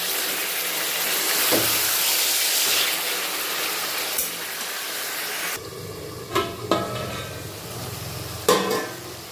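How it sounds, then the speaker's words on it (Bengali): Chicken keema stirred in a hot pan: steady sizzling and hiss, then a few distinct scraping clunks of the spoon against the pan. "ঢাকনা সরিয়ে মাঝে মাঝে চিকেন কিমাটা নাড়িয়ে নিতে হবে"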